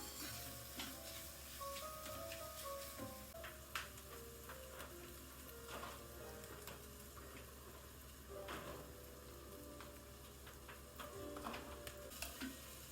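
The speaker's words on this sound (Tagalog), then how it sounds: "Sangkutsahin nyo lang maigi hanggang medyo maluto yung mga mushroom." Mushrooms sautéing in a pan for hot and sour soup give a quiet sizzle, with scattered utensil clicks and stirring taps throughout.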